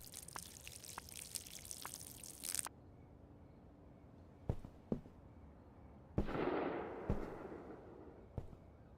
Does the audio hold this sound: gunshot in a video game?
yes